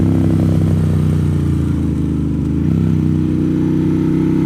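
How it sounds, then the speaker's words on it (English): A vehicle, probably a motorcycle, drives on Wayah Road, a mountain road, with a loud, close engine drone that shifts pitch partway through as it passes. "And then I turn the camera on and I start catching vehicles."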